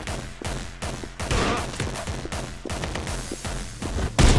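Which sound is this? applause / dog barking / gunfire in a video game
gunfire in a video game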